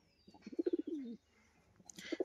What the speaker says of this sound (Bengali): পায়রা দুটো পুরো সেটিং পেয়ার, দেখে নিন।